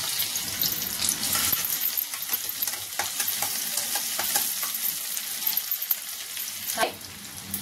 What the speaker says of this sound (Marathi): तेल तापलेलं आहे, आपण त्यामध्ये 1 वाटी कांदा टाकायचा आहे